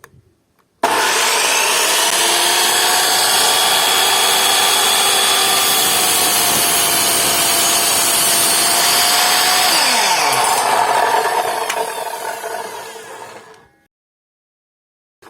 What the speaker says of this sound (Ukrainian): Дана пилка і врізала і дві дошки.